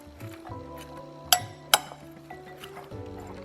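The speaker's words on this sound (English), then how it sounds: "Give this a stir, a mix" A spoon works through a bowl of cold tuna pasta salad made with gluten-free noodles, giving soft squishy stirring with two sharp clinks against the bowl midway, close and fairly quiet.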